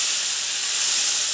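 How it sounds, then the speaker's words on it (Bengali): Potatoes frying in hot oil in a home kitchen while cooking a spicy pabda fish curry, giving a bright, steady, close hiss and sizzle that runs evenly throughout the short moment without any voice. "আলুগুলো দিয়ে আমি এখন সুন্দর করে ভেজে নেবো একটু।"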